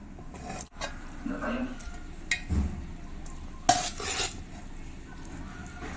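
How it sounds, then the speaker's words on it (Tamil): Tamarind rice being stirred in a pot, with soft scraping and clinking of a spoon against metal in a few brief bursts over a quiet kitchen background. "வாங்க புளிசாதம் எடுத்துகிட்டு போய் கிளறிடலாம்"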